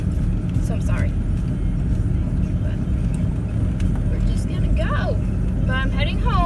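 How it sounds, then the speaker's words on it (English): A car engine running rough while driving makes a loud, steady low rumble that fills the whole clip, with road noise and a voice speaking over it in short bursts. "My car sounds like shit, so I'm sorry."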